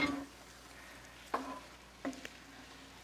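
Asparagus being stirred into a dairy-free mushroom risotto, with a quiet simmering hiss under a few sharp spoon scrapes and taps against the pan, no talking.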